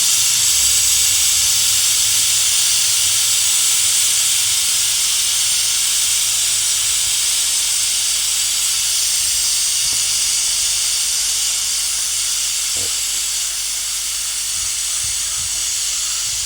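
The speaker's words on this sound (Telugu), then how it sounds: "Oh no, it's very high vapor." A pressure cooker of chicken curry vents steam in a loud, steady, unbroken hiss that lasts the whole stretch, with no voices over it.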